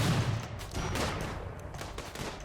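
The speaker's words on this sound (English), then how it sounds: "as you can see, shield generator blocks the bullets" In the Rimworld video game, a rapid burst of gunfire strikes a shield generator, a dense crackle of shots and impacts, fairly faint and compressed, with no voices.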